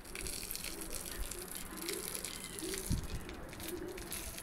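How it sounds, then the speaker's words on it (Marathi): Water poured out by a mother on a hot summer day makes a faint, steady gushing splash that runs continuously at low volume. "टाकत आहे पाणी माझी मम्मी"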